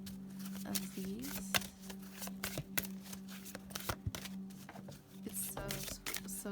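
Oversized tarot cards are shuffled repeatedly, making a run of crisp, close card slaps and riffles at an uneven rhythm, with a voice heard faintly now and then.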